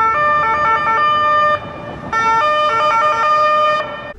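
An Austrian police car siren blares close and loud, a harmonic two-tone pattern alternating in quick steps, pausing briefly before resuming and then cutting off.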